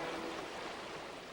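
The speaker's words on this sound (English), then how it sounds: "And I love the sound of a stream as it goes by." A stream of running water flows steadily past, a constant broadband rush with no breaks or other sounds over it.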